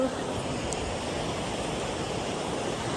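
Flowing stream in the hills, a steady close rushing wash of water with a faint voice briefly over it.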